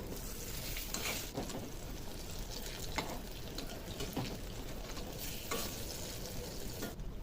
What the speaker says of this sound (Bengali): গ্যাসটা লো করে ভাজতে হবে